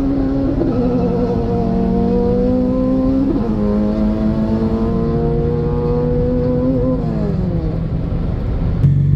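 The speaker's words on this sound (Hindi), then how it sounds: "विकास भाई दा लेजेंड खुद गाड़ी चला रहे हैं।" A 400 hp car on its first nitrous run accelerates hard through the gears, a loud, sustained engine roar whose pitch climbs and drops at each shift, with no talk.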